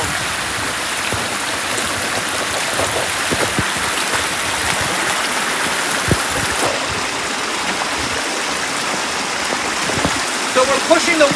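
River water pours over a stepped waterfall drop, a steady loud broadband rush and splash that continues unbroken throughout, close to the listener.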